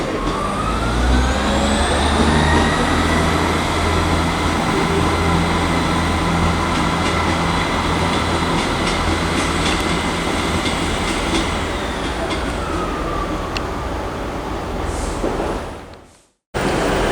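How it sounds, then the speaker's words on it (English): A ScotRail passenger service from Inverness to Stonehaven moves through Aberdeen station, its loud, steady rumble and engine drone carrying for about fifteen seconds with a faint wheel squeal before the sound cuts off abruptly near the end. "that train is actually the 1802 ScotRail service from Inverness to Stonehaven"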